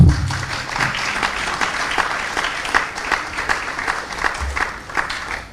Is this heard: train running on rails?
no